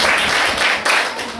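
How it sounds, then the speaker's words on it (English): A classroom audience applauds the speakers after a class debate: a loud, dense burst of many hands clapping close by, briefly dipping and swelling again. "So let's give them a round of applause,"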